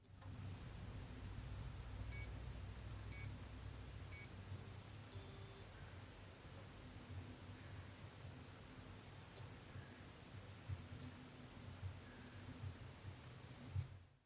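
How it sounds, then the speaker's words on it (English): A small Casio digital watch alarm gives a few sharp, high beeps in quick succession, then a longer beep, followed by scattered faint clicks in a quiet room. "the default for the alarm is to beep"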